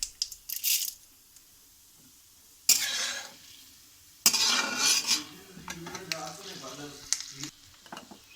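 Cumin seeds and urad dal tempering in hot oil for besan curry, with bursts of sizzling and crackling as they hit the pan, followed by stirring and spoon scrapes against the vessel.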